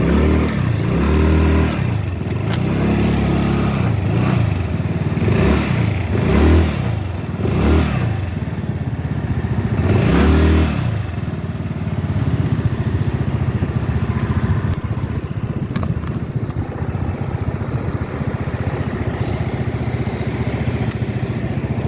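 Volta Apec 125cc motorcycle engine idling and being revved nearby, several rising and falling throttle blips in the first half, then a steady, slightly rough idle.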